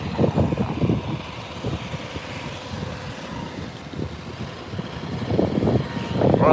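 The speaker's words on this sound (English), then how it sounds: "Run this tractor back and forth all morning." A surf rake tractor scrapes seaweed off a beach in Cancun, its low engine rumble running steadily, with louder pulsing bursts at the start and end.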